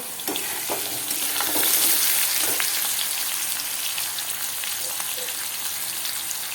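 Vegetables fry in oil tempered with black cumin seeds, alongside potatoes, eggplant and small fish, giving a dense continuous crackling sizzle up close with a few soft stirring knocks.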